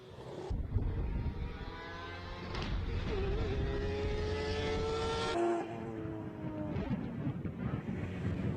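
Mazda RX-7 race car with a 20B three-rotor rotary engine at a classic car speed event in Cape Town, a loud rising and falling engine howl with gear changes as it passes, buffeted by wind noise, no talking.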